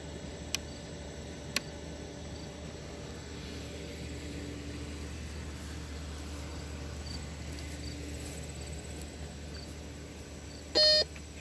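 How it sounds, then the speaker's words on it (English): Metal detector sweeping outdoors, mostly quiet hiss with two faint clicks early on, then a short, sharp electronic beep burst near the end. "Got an awesome new metal detector."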